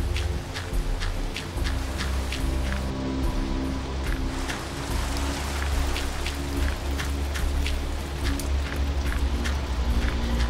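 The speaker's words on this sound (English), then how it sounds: "Is it really raining out there?" Steady rain falls in The Legend of Willow Valley, a dense continuous hiss of drops with scattered ticks and patters over a low rumble, close and even throughout with no voices.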